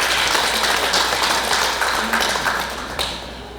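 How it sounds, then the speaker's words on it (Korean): Brief applause from the audience at a press briefing, a burst of clapping that rings out at once and slowly thins over a few seconds. "축하의 큰 박수 한번 보내주면"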